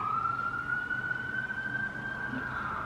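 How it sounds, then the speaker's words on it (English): A long, steady ambulance siren tone holds and slowly drifts upward in pitch, moderately loud, with faint background noise underneath. "I wish this ambulance would go by already."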